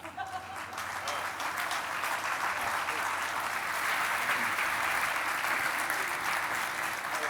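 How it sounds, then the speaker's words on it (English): Sustained applause from a conference audience welcoming panelists to the stage, a dense steady clatter of many hands that holds evenly for several seconds, with no talk over it. "please clap them"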